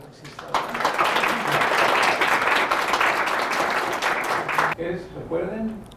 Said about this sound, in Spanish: Vamos a dar un aplauso a nuestro conferencista.